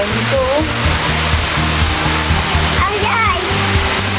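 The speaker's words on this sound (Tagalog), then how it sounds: "Makikita nyo yun, ang falls napakataas." Hulugan Falls, a very tall waterfall in Luisiana, Laguna, roars as a continuous broad rush of falling water, with voices talking faintly beneath the steady wash.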